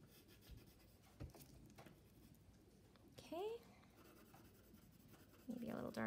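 A pencil scratches steadily across paper under heavy pressure, shading darker tones on a colored character drawing, quiet and close with a few sharper strokes and bumps.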